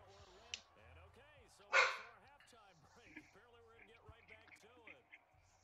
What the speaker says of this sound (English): because of the stupid dog barking